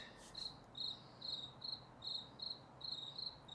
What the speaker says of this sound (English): Crickets are good luck, aren't they?